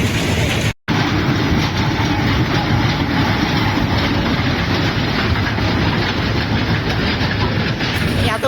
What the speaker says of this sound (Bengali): এত বড় ট্রেন তুমি দেখেছো আগে?